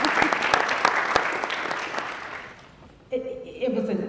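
Applause from an audience at a university pre-law program event, fairly close and steady before fading out, followed by a voice speaking.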